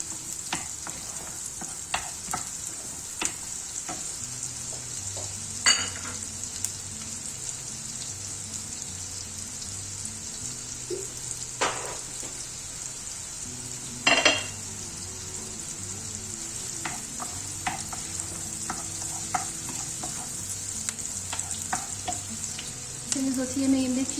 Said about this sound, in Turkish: Bir tane kuru soğanı yemeklik doğradım. Alıyorum yağıma.